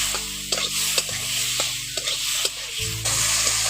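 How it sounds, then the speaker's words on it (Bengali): Tomatoes frying with salt and turmeric, stirred firmly in the pan: loud, close sizzling with repeated rhythmic scrapes and knocks of a spoon, no voices. "হাফ চামচ হলুদ গুঁড়ো, এগুলো দিয়ে ভালো করে একটু টমেটোটাকে কষে নিচ্ছি।"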